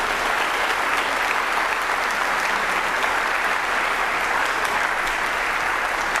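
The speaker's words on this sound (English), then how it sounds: "And one more round of applause for that" Audience applause fills a high school orchestra spring concert hall after a string piece, a dense, steady wash of many hands clapping at full volume without letting up.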